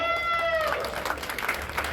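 Crowd applause at a wrestling match between Mauli Kokate and Mauli Jamdade, a dense, steady wash of clapping with a brief whistle-like tone at the start.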